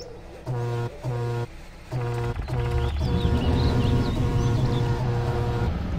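A vehicle horn in the SpinTires off-road driving game honks three times in long, loud blasts, then sounds again as a longer stretch over engine rumble and faint chirping.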